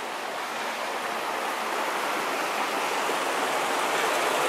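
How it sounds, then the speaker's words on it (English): A creek flowing beside the medieval defensive walls of Brasov, Romania, making a steady broadband rush of water that stays close and constant with no voices. "You can see the creek to my left."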